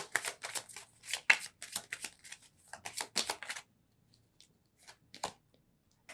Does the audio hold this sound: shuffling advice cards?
yes